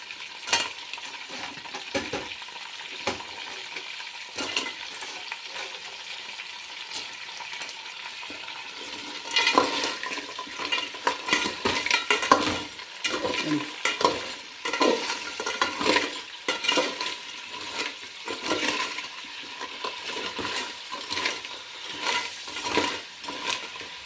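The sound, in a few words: crab frying in oil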